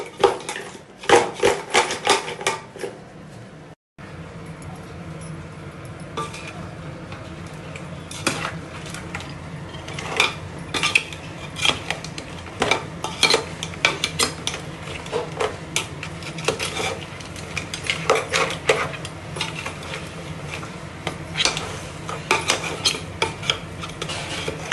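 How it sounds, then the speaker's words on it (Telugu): A spoon stirs masala into crab curry in a pan, giving repeated clinks and scrapes against the metal in an uneven rhythm with a faint sizzle underneath, and no voices. "నీట్గా అలా తీసేసి మసాలా వేసి ఇలా కలుపుకోవాలండి"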